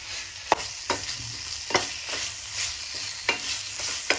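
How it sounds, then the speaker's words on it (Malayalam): Spicy chicken curry being stirred in a pan over a medium-high flame, with a steady low sizzle and a series of sharp spoon scrapes and clinks at irregular intervals, close and moderately loud, with no talking. "ഒരു മീഡിയം ടു ഹൈ ഫ്ലെയിമിൽ വെച്ചിട്ട് നമുക്കൊന്ന് മിക്സ് ചെയ്തെടുക്കാം"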